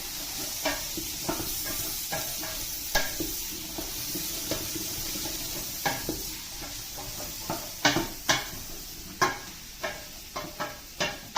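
Roasted vegetables stirred in a pot on an electric stove, with repeated scraping clinks of a utensil against the pot in an irregular rhythm over a soft, steady sizzle, close and fairly quiet.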